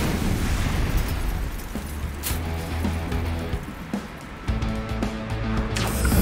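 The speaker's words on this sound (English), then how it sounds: "Here come the missiles" Missile explosions in the video game Death Roads go off as heavy booming blasts, one after another, over continuous loud game audio with a steady musical drone.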